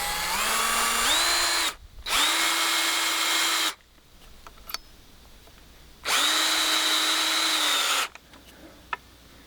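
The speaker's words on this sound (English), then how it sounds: "put some of these outdoor wood screws in here" A power drill drives outdoor wood screws into a wooden garden fence in two loud, sustained whirring bursts that rise in pitch as each screw seats, separated by quieter pauses with faint clicks.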